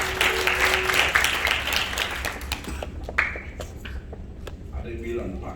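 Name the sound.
congregation clapping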